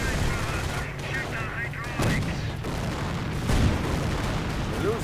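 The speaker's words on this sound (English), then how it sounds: "Grenadiers getting sniped." Sniper rifle shots crack twice through the constant battle noise of a strategy video game as grenadiers are picked off, with a commentator talking throughout.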